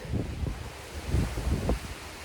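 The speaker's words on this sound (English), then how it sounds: "And I walked out here, man, and I felt that wind." Wind blows outdoors in soft, low gusts that buffet the microphone, faint and steady with no voices.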